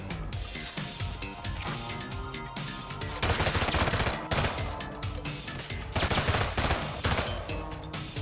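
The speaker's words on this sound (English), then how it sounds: "I do like this SMG a lot." SMG gunfire in the video game Brigador: dense, continuous automatic bursts fill the whole stretch, growing louder in a couple of sustained volleys, with no talking over them.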